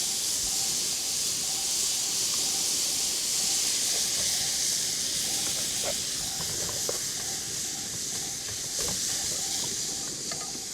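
Minced shiitake mushrooms and beef sizzle in a hot pan, a steady, bright hiss running throughout with occasional soft clicks and pops and no talking.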